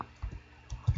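Fingers type on a computer keyboard up close, a brief burst of soft, uneven key clicks and thumps.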